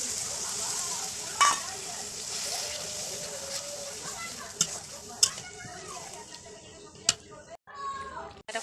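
Chopped onion, garlic paste, turmeric and chilli water fry in a pan in a home kitchen, a continuous sizzle with sharp spatula clinks and scrapes, while someone talks intermittently over the cooking.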